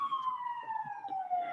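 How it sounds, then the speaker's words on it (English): An ambulance siren wails with a steady, slowly falling tone, heard at moderate distance near a hospital over faint background noise. "Don't mind the ambulance sounds."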